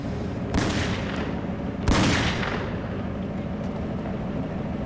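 Two sharp gunshots from masked robbers' gun, one near the start and one louder just under two seconds in, each ringing out over a low steady background hum.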